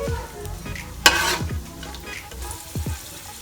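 Raisins and dried coconut fry in a pan for sweet jaggery rice, with a steady low sizzle broken by a few close scraping stirs and one sharp clank of the spoon.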